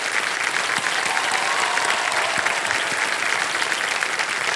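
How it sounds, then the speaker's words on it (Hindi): Loud, enthusiastic studio-audience applause on the quiz show Kaun Banega Crorepati, a thick continuous roar of clapping that holds steady for several seconds. "एक बार फिर जोरदार तालियां बज जाए इनके लिए"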